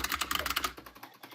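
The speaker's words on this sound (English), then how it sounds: "Oh, I was pressing my space bar going through" Loud mechanical computer keyboard keys clatter in a quick close run of sharp clicks, including heavy space bar presses, then thin out into fainter scattered taps.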